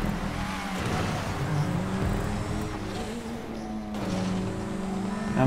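Race car engines drone in GTA Online, a continuous motor whine whose pitch shifts and climbs as the cars accelerate, loud and near throughout.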